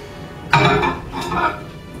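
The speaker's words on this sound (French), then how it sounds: "je vais quand même le remuer un peu" A spoon stirs melted chocolate in a bowl, giving two short scraping clinks against the bowl, close by, over a faint steady background hum.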